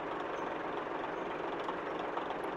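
A truck engine idles in the Spintires: Mudrunner video game, a steady, unbroken low rumble running alone with no talk.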